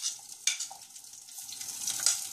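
Onions and peppers frying in hot oil in a frying pan for Mexican rice, a steady close sizzle with a couple of brief scraping stirs, no talking.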